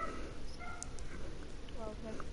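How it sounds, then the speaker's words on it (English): A dog gives a few short, faint yips and barks in the background of a home, partly buried under ongoing conversation. "Can hear your dog barking there"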